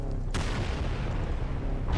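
A jump-slam skill effect from a Roblox game: a sharp heavy impact boom followed by a rumbling low thud that lingers for the rest of the short burst.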